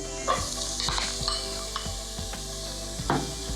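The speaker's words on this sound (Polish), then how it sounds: "i będę ją chwilę smażyć." Onion sizzling in hot olive oil in a pot, with several scraping knocks of a utensil stirring, close and fairly quiet.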